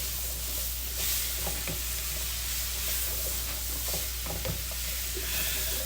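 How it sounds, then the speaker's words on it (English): Mushrooms sautéing for a white wine parmesan chicken dish, a steady close sizzle broken by scattered scraping clinks of stirring, with no talking. "Want to get my mushrooms all sauteed down."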